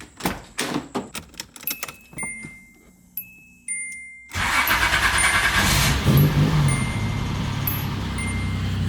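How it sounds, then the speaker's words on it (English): A car fitted with a new exhaust system cold-starts after a series of sharp clicks and taps, then settles into a loud, steady idle rumble that fills the rest of the moment. "let's get a quick cold start"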